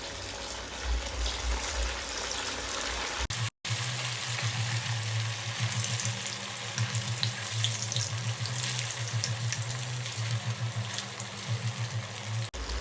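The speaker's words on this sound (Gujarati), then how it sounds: "હવે આપણે આમાં તેલ ગરમ થઈ ગયું છે એટલે એમાં આપણે આ વડા તળીશું" Sabudana and potato vadas deep-fry in hot oil in a kadhai over a low flame, a loud, close, continuous sizzle and bubbling that begins after a short break and carries on steadily.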